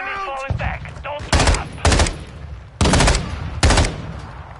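Gunfire in the video game Call of Duty Warzone: four loud, close bursts of rapid fire, each lasting about half a second and spaced apart. A short voice comes before the shots.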